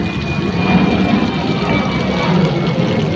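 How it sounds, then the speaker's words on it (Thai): An airplane flies overhead, a steady, loud, broad roar that holds level throughout, with no voices. "เสียงเครื่องบิน"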